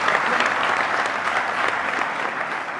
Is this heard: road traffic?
no